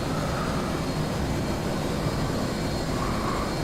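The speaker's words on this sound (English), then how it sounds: "We're flying the FA-18 in a homebrew mission that we're testing out." F/A-18 jet in the DCS World flight simulator at cruise altitude, a steady broadband roar of engine and air noise, constant and fairly faint, no talk.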